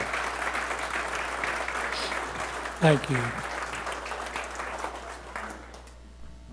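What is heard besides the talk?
applause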